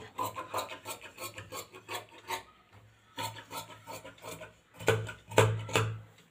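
Scissors cutting blouse cloth on a tabletop, a series of short rasping snips in uneven bursts with brief pauses, close and moderately loud.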